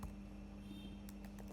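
Keys on a computer keyboard clatter in a short burst of quick, light taps, close and fairly quiet, over a steady low background hum.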